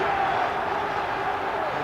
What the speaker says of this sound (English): The noise is deafening, and the crowd have been absolutely fantastic